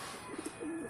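A pigeon gives a short, soft coo inside a loft, a low warbling call that rises briefly and trails off over faint background noise.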